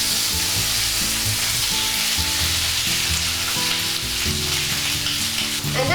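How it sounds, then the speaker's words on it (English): Atsuage tofu frying in a pan over medium heat, a steady dense sizzle with crackling bubbles throughout, close and loud, no talking. "let's add ATSUAGE into the frying pan"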